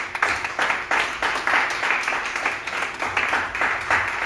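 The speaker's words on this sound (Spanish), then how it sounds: "podemos dar un aplauso al Señor" Congregation applause during a Spanish-language church service, a close, rhythmic burst of many people clapping with uneven pulses throughout.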